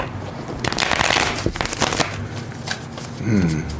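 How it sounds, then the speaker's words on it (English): Cards being riffled and shuffled up close, a dense rapid flutter of snapping cards lasting a few seconds, with a voice speaking near the end. "You hear me shuffle the deck throughout the reading."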